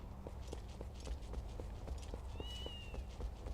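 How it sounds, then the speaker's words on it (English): Cats meow in the Zelda Twilight Princess game over regular soft footstep taps, with a clear rising meow standing out partway through and fainter calls around it. "What about all these cats?"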